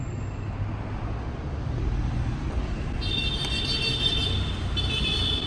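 Steady São Paulo street traffic, cars and motorbikes, rumbles at a moderate distance as a continuous low roar, with a faint high tone cutting in briefly near the end.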